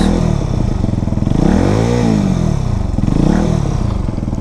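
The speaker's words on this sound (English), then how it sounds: "that's not what you would call a normal 125 sounding bike" A Benelli TNT 125cc motorcycle engine runs with a deep, throaty note, rising and falling through two revs in the first half, loud and close.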